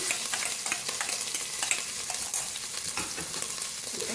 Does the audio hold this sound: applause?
no